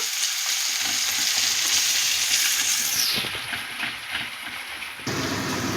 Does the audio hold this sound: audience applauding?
no